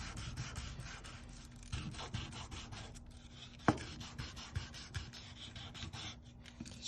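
Leather guitar pick case rubbed back and forth on sandpaper glued to a wooden block, producing soft, steady scratchy strokes up close with a few sharper scrapes.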